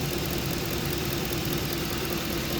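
A 2010 Ford F-150 Lariat engine running up close, a steady idle hum with a faint repetitive knock under it and no talking.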